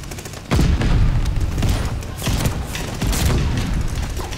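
A grenade goes off in a shooter video game, delivering heavy booming blasts mixed with bursts of gunfire. The sound is loud and close, with several thumping surges and no talking.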